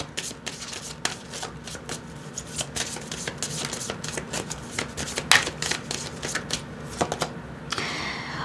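Oracle cards shuffled steadily in hand, a dense run of soft papery riffles and flutters lasting several seconds, close and moderately quiet, with no talking over it.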